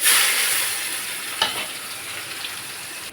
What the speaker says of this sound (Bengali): একটু জিরে আর একটু গরম মশলা দিয়ে দিলাম আর একটু কাঁচা পেঁয়াজ।